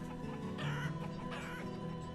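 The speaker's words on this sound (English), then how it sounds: "Cute little baby chicken." A baby chicken in the city-building video game Banished clucks softly in short repeated bursts over a steady, busy game ambience with a faint tonal hum.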